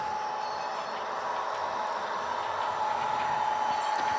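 An HO scale model train rolls along a layout in a continuous steady hum with a faint high whine, close and even throughout, with no voices.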